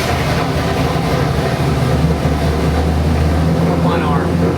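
A 440 V8 crate engine in a 1965 Plymouth Satellite runs loud and close, a steady deep rumble that rises in revs and then eases back toward a smooth idle.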